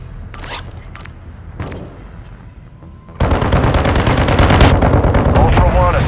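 Call of Duty gunfire, a few isolated shots over quiet radio chatter, then a sudden loud, sustained rattle of rapid automatic fire and bursts close by until the end.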